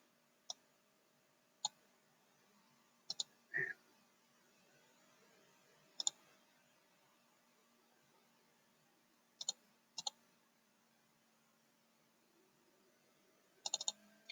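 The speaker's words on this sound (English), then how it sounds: "Double click like that." Sharp computer mouse clicks in close pairs, double-clicks repeated several times at a quiet desk over a faint steady hum, with no speech.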